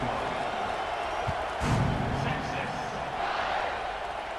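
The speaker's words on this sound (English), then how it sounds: "They're set to kick it off, and this crowd now ready to get behind them." Stadium crowd in the college football video game CFB 26 roars steadily as a team lines up for the kickoff, a broad distant cheer swelling briefly midway, with commentary voices mixed in.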